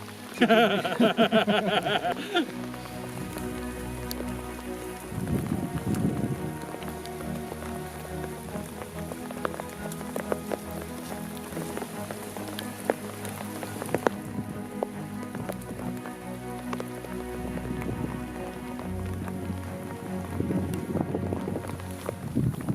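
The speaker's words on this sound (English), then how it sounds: "The rain pours down once more" Steady rain pours onto the ground and gear in the Alaskan wilderness during a moose hunt, a dense, even hiss that holds at close range for the whole stretch without pause.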